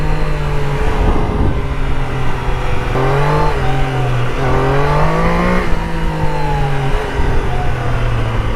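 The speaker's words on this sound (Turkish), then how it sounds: "Şöyle ıslık çalıyor ya 3 silindir." A Triumph Daytona 660 three-cylinder motorcycle engine revs repeatedly, its pitch climbing and falling in a whistling, close-up howl that fills the whole stretch without any talk.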